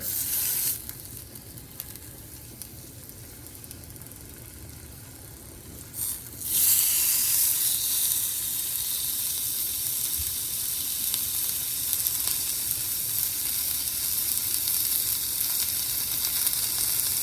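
Lamb chops sizzle in a hot skillet, a quiet hiss that suddenly bursts into loud, steady crackling frying that continues without pause, close by.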